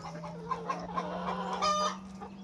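Hens cluck and murmur nearby in short, bubbly bursts over a steady low hum, with one louder squawk near the end.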